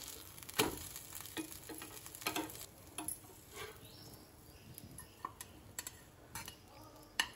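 Tri-color uthappam made with idly batter sizzling on a hot pan, a faint steady frying hiss broken by scattered ticks and sharp clicks from a utensil, near and quiet.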